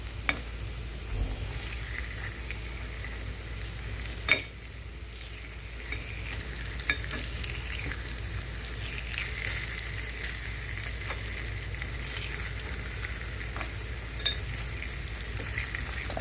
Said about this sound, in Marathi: आपण आता ह्या आप्पेला पलटी करून घेऊया।